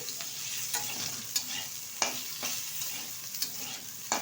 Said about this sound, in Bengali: নুন দিয়ে ভালোভাবে ফুলকপি আলুটা ভেজে নেবে তেলের সাথে